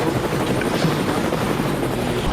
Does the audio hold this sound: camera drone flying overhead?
yes